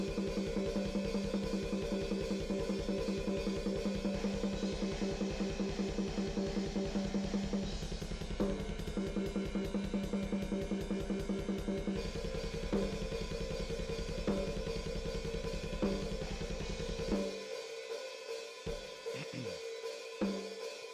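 Programmed black metal drums drenched in heavy reverb, a dense continuous blast-beat wash at a loud steady level that drops out near the end, leaving a few sparse hits and a fading reverb tail.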